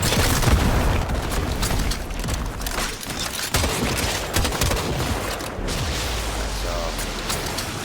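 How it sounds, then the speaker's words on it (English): Loud, dense explosive shotgun blasts fired in rapid succession in a first-person shooter game, each boom layered over the next with almost no pause across the whole stretch. "This is the best fucking shotgun ever. Combines both shotgun and my favorite pastime, which is blowing shit up."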